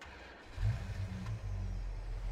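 A 1986 pickup truck engine in Farming Simulator idles and rumbles low, revving up briefly and holding a steady growl, with no talking.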